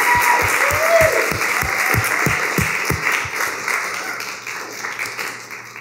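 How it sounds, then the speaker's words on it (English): Audience applause at a tech conference talk on eCommerce, a full crowd clapping steadily at first with a few rhythmic claps on top, then slowly thinning and fading out. "I just want a big round of applause for them."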